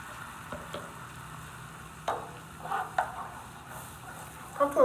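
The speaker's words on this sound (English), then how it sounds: "Come to a simmer a little bit." Heavy cream with garlic coming to a simmer in a pan for chicken parm sauce, soft bubbling sizzle with occasional stirring scrapes and clinks, fairly quiet and close.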